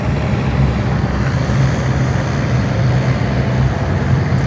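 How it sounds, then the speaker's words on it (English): An Airbus A330 climbs out after takeoff at Sydney Airport, a broad, steady jet roar with a low rumble holding even throughout, heard from a distance without talk. "We're about to see another A330 climb like a homesick angel here"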